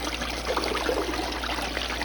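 Water pours steadily into the top of a gold sluice box fitted with a new vortex riffle mat, a continuous close rushing trickle with no pauses.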